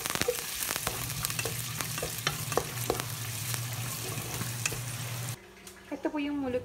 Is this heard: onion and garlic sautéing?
yes